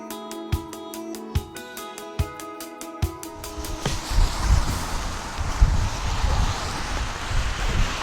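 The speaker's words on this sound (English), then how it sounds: "really strong winds here" Strong gusting wind buffets an umbrella outdoors, a heavy, roaring broadband rush with surging low rumbles that swells after a few seconds of music and continues loud and unsteady with no voices.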